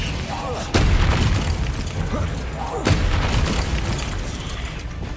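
In Hogwarts Legacy, a Descendo spell slams down with two heavy booming impacts about two seconds apart, each followed by rumbling, crumbling debris, amid dense game noise and a voice talking.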